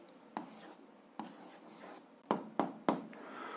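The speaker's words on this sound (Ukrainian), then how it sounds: "Пишемо відповідь." Pen strokes writing an answer by hand in a notebook for a 7th-grade algebra exercise, a few separate scratchy bursts, close and quiet, with no talking.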